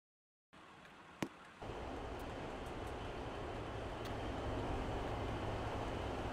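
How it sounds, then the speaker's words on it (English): A British Railways train approaching the platform at Leaton station, a faint low rumble that starts abruptly with a brief click, then thickens and grows slightly louder as it nears. "The train now approaching platform 1 is the 1847 regional service to Freston Junction"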